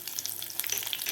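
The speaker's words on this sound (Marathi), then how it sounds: "आता यामध्ये घालायच्यात आपल्याला 2 हिरव्या मिरच्या कापून घेतलेल्या आहेत जाडसर." Thick-cut green chillies crackle and sizzle steadily in hot tempering oil on a medium flame for curd rice, a dense continuous frying hiss with no talk.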